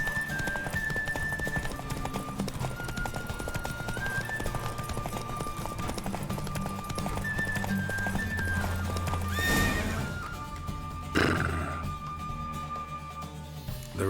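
Roach, Geralt's horse in The Witcher 3, gallops in a race, with rapid rhythmic hoofbeats and occasional neighs over game music, ending in a louder whinny and snorting.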